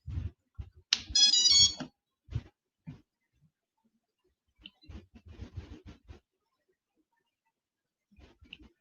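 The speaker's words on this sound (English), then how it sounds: "So that first set of beeps says we have power" A homebuilt multirotor quadcopter's electronics power up with a brief series of high-pitched tonal beeps, close and clear, followed by quiet handling clicks and soft speech in an otherwise quiet room.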